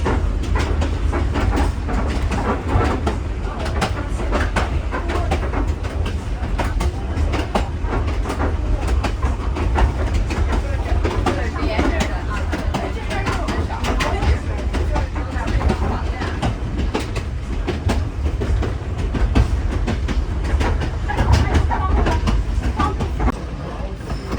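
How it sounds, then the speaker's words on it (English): A train in the Andes heading to Puno, heard from the last carriage, rolls along steadily with a continuous rumble and rhythmic clatter of wheels on track, loud and close, with faint voices mixed in. "We're back on the train here in the last carriage."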